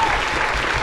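Studio audience applauding at a live comedy talk show where a magician is performing, a steady dense wash of clapping throughout with no pauses.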